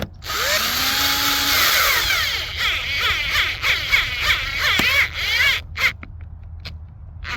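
Power tool driving bolts on a 2006 Chevrolet Corvette fuel pump, a close, loud whirring burst with rising and falling pitch sweeps, running nearly continuously before stopping short and giving way to a few clicks.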